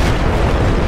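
A C4 charge goes off in Battlefield 4, a single loud, booming blast that fills the short moment with a dense burst and no voices.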